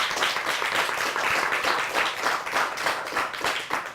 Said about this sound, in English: Can we give Dee Watkins a big round of applause for being here?